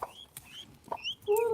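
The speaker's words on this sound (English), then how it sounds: "See how Peanut's clucking?" A hen named Peanut clucks to call her chicks to food, giving short soft clucks close by mixed with thin peeping chick calls and a louder cry at the end.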